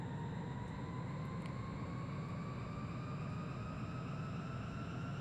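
In the video game Ace Combat 3, a jet aircraft's engines run at takeoff power: a steady, even roar with whining tones that slowly rise, with no voices.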